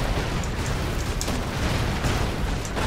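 Dense, loud explosions rumble and crackle continuously in the action video game Expendabros, a steady wall of bursts with brief sharper pops.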